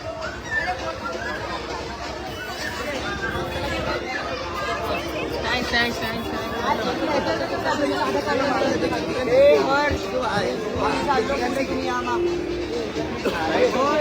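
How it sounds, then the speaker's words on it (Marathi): A dense crowd of devotees chatters at the Badlapur Ganesh pandal, a continuous babble of many overlapping voices close by with no single speaker standing out. "बाहेरही आपण बघू शकतो भाविकांची ही अलोट गर्दी पाहायला मिळते"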